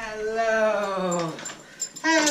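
A small dog whimpers in a drawn-out, high, falling whine, followed by a couple of short yips, close by.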